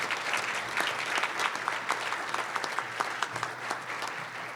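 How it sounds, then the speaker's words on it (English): An audience at a community press conference applauds school resource officers, with brisk steady clapping throughout and distinct claps popping out of the even wash of sound. "Let's give them a round of applause."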